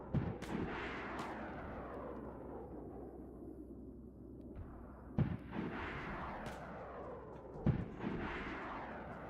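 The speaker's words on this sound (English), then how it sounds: "We're trying to shoot the paratroopers down." Sparse heavy gunshots boom out in the DayZ video game as players fire at a paratrooper aircraft overhead, a few sharp reports spaced seconds apart over a low rumbling background.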